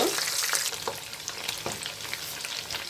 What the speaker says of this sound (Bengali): আস্তে আস্তে জাল দিয়ে সব মাংসগুলোকে আমি ভালো করে ভেজে নেব